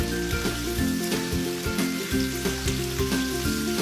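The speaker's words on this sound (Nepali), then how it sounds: "चिकन मजाले फ्राई भइसकेपछि मात्र त्यसमा प्याज राख्छु अनि त्यसलाई मजाले चलाउँछु" Chicken and onions fry in a pan, a continuous close sizzle broken by rhythmic stirring knocks and scrapes throughout.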